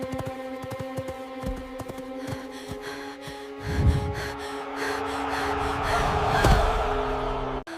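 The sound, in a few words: gasping breaths after a race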